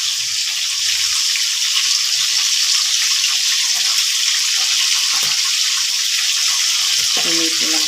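Onions sauté in a hot pan for a spare ribs adobo in coconut milk, giving a steady, loud sizzling hiss that runs throughout, with a voice faintly speaking underneath.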